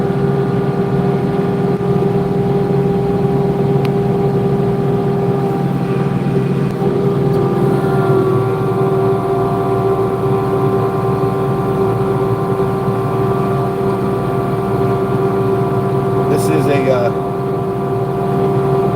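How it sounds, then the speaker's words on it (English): A Kubota LX 2620 hydrostatic cab tractor with a Titan plow clearing winter snow, giving a constant droning engine hum with steady tones from the cab, while someone talks over it throughout. "For those that are interested in a tractor, this is a Kubota LX 2620 cab tractor."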